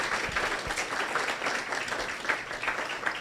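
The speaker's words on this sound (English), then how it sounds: "Big round of applause for all these amazing kiddos." Applause from a school audience for students after a high school public speaking final, steady dense clapping filling the room throughout with a few faint voices beneath.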